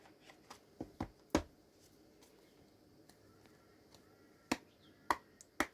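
Cards drawn from an Angels and Ancestors oracle deck: sparse, sharp snaps and flicks with short card rustles in a quiet room, a few isolated clicks spread over several seconds.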